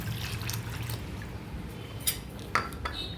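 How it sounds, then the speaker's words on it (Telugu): Powdered sabudana (sago) is stirred with water in a kitchen vessel, making quiet wet swishing with a few light clinks of utensil against the pot. "2 cups వాటర్ వేసుకొని మిక్స్ చేసుకోవాలి."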